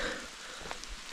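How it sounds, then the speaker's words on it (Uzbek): Sudden rain on a mountain road in Korea, a steady close patter of drops hitting a surface for a brief moment with no voices. "Karada shunaqa yomg'irlar birdaniga keladi, birdaniga ketadi."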